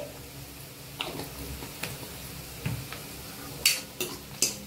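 Onion with turmeric sautéed in oil for veg kurma, with faint sizzling and sparse spoon scrapes and taps against the pan, a few sharper clinks near the end, no speech.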